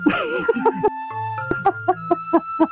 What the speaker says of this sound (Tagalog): Tingnan nyo yung manok.